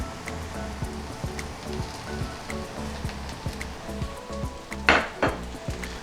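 Kaffir lime leaves, bay leaf and chili sauté in a pan for Indonesian tempeh orek, a steady sizzle broken by rhythmic scraping and clinks of a utensil against the pan, one louder clatter near the end.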